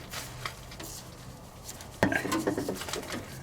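Metal shielding around the oil filter of an Onan 5500 generator is unscrewed by hand, with faint scraping followed by a sharp metallic clank and a few light rattles close by.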